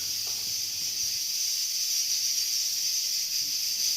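A pressure cooker of jackfruit with prawns lets out a steady, piercing hiss of a whistle that holds at an even level throughout with no voices.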